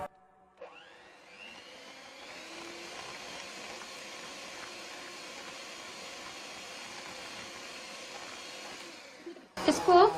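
An electric mixer beats sakroli paste with oil and sugar, a loud steady motorized whir running continuously for several seconds before cutting off, followed by a brief clatter at the end.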